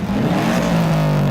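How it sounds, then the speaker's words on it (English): Cars revving hard at a car show: a loud, close engine roar holds steady for just over a second. "it's the sound of everyone revving the tits out the cars"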